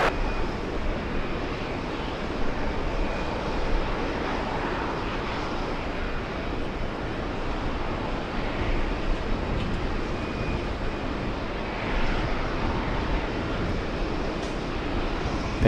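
An airliner accelerates down runway 22 right at JFK for takeoff, heard as a broad, steady engine roar from a distance that stays loud and sustained throughout, with no voices over it.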